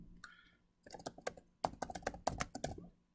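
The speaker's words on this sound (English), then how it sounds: "you can start typing in the text here" Rapid clicking of computer keyboard keys while entering text into a contract proposal form, a burst of uneven keystrokes that starts light and grows denser and louder, close up with no voices.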